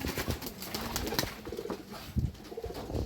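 Pigeons, an older pair of khaki giribaz birds, coo in a small home loft, with soft repeated low calls close by over a steady background hum and no talk.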